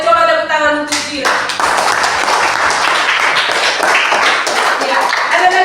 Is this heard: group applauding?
yes